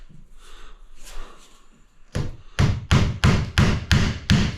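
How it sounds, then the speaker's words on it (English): A hammer strikes repeatedly while architrave trim is fitted around a door frame: a run of about seven sharp, evenly spaced knocks, loud and close, preceded by quieter shuffling handling noise. "All we need is a hammer."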